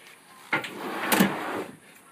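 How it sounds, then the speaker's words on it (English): A heavy-duty drawer on a camper's drawer slides rolls open or shut in one smooth sliding stroke lasting about a second, close by and with no one speaking. "A couple of heavy duty sets of drawer slides makes it happen."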